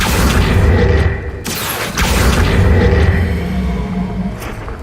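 A spell being cast in the Hogwarts Legacy video game: a loud, dense whooshing rumble fills the clip, with a sharp break and surge near one and a half and two seconds before it fades slightly.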